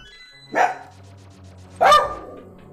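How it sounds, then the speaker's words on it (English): Dogs in a house give two loud, sharp barks about a second apart, close by, over a quiet low hum. "Oh my god, dogs!"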